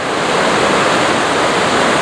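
A river rushes through an overflow channel it carved after material blocked its old course, a loud, dense, continuous roar of churning water with no voices.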